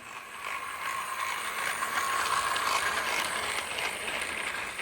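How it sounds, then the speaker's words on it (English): A motorized Thomas and Friends Percy toy train running on Tomy track, its struggling motor and gears giving a steady, close, grinding whir that holds at an even level throughout. "you can hear how much the motor is struggling"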